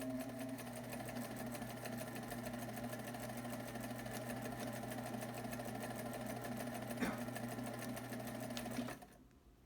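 A sewing machine runs steadily in reverse, a continuous close whirring hum with a fast rapid needle chatter throughout, briefly clicking once near the end before stopping abruptly.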